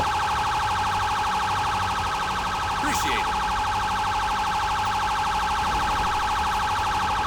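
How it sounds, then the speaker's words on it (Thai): A continuous electronic police car siren in Grand Theft Auto V wails steadily throughout, loud and unbroken, with a short burst of voice partway through. "ปิดเสียงไซเรนดิ"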